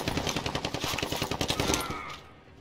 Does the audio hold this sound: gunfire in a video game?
yes